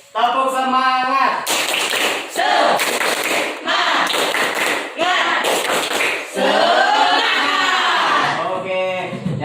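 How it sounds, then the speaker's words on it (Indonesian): A school class does a rhythmic spirit clap, with sharp bursts of group clapping in a patterned beat between chanted voices, loud and close in a classroom. "Tepuk semangat."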